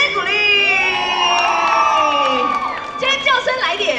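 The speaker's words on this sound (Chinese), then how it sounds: "掌声鼓励！" An audience at the premiere of the film Youth 18x2 shouts, screams and cheers loudly as a dense crowd, with high excited voices rising and falling over a few seconds.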